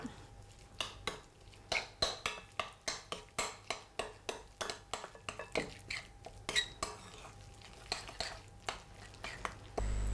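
Metal utensil scraping and clinking against a pot or bowl while mixing a salted, peppered grilled aubergine preparation for a warm Riviera-style mille-feuille, a steady series of close, rhythmic knocks and scrapes with no talk.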